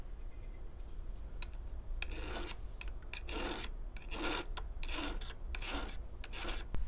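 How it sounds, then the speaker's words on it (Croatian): A round file rasps across a chainsaw chain on a Parkside PSG 85 B2 sharpener, a close, fast scraping in repeated short strokes that grows louder toward the end. "samo par pokreta turpija"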